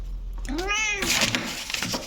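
A house cat gives a single clear, drawn-out meow up close, followed by rustling and handling noise.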